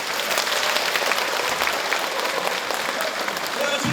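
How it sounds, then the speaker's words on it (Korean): An audience at a town hall talk concert marking a mayor's second anniversary in office claps loudly and continuously, a dense crowd applause with a few voices mixed in. "다 같이 응원의 박수 한번 더 부탁드리겠습니다"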